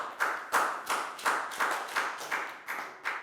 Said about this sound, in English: High five and a big round of applause for Nadia, please, guys